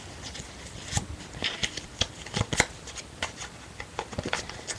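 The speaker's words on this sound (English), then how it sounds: "Shuffle it again." Playing cards are shuffled up close, quiet papery flicks and riffles in quick irregular bursts.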